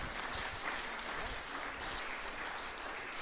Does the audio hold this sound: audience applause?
yes